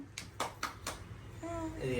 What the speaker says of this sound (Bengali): হাততালি হাততালি হাততালি দাও দিদুন